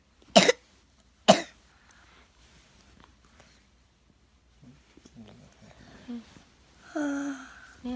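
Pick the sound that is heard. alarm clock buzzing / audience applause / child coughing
child coughing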